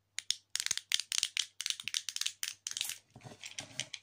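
Buttons on a fidget toy pressed in quick succession, a run of sharp, close clicks and snaps in irregular bursts with brief pauses, no talking.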